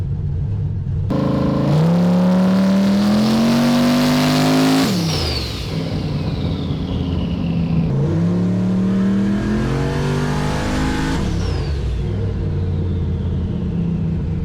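Turbocharged car engine running E85 on a boost-controller tuning pull, revving hard in two rising sweeps with loud rumble and a whistling turbo spool-down after each, no talk.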